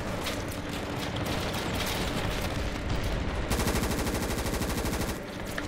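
Machine gun fire from a trench line in the modded video game Ravenfield, dense overlapping rapid bursts that turn into a tight, steady automatic rattle midway, loud and continuous with no talk.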